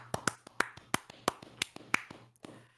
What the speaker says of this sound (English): Clap sync. There you go. Clap.